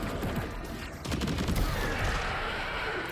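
Gunfire in the video game Death Stranding 2 comes as a dense burst of rapid shots, loud and close, then settles into a rumbling wash of noise.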